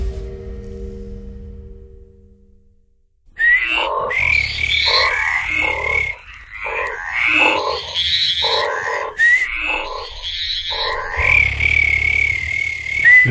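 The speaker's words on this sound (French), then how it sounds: "Le crapaud commun, le crapaud calamite, l'alite, ou appelé localement la cuque, le pélodite ponctué." A chorus of common toads and natterjack toads calling outdoors, with repeated trilling and croaking notes in bursts, loud and close, after a quiet start.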